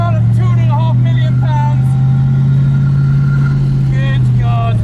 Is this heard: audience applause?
no